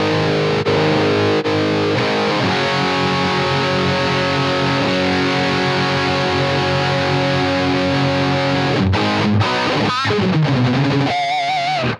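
An electric guitar through a UAFX Lion '68 Super Lead amp pedal, heavily overdriven, rings out with a thick, buzzing sustained chord, then breaks into a few bending notes near the end.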